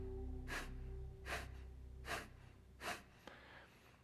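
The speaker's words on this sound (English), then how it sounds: "So what it is quick exhales from your belly." Four quick, forceful belly exhales of kapalabhati (skull shining) breathing during a meditation class, evenly spaced about a second apart, each a short breathy burst close to the microphone over a steady low hum.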